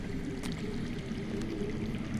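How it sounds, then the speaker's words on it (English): Water running and trickling somewhere underground in the Game of Thrones video game, a steady soft flowing wash that continues alone without a break. "I hear water. From underground."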